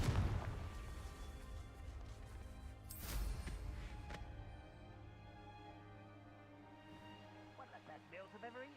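A Confringo blast spell from Hogwarts Legacy bursts with a loud crashing boom. Game music and tones carry on underneath as the blast fades, and a voice talks briefly near the end.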